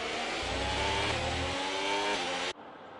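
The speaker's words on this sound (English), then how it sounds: "We'll go on board with the RB just to hear the engine." Red Bull race car engine revving hard on board in a sim racing game at Australia, a loud continuous harmonic whine climbing in pitch for about two and a half seconds before cutting off abruptly to quieter background.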